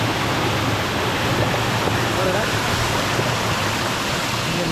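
A waterfall on a coffee estate roars as a loud, continuous broadband rush of falling water, and someone speaks briefly over it.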